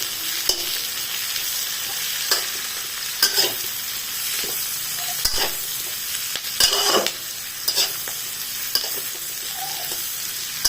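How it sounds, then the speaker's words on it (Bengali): Capsicum and cabbage strips for Hakka noodles fry and get stirred in a hot pan, giving a steady close sizzle broken by repeated scraping and tossing clatters, with no voices. "দেওয়ার পরে এবার আমি ভেজে দেবো"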